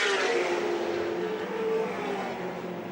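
Touring race cars from Lakeside in 1984 drive onto the main straight, engines droning loudly with a rising and falling tone as they pass close, the sound easing slightly toward the end.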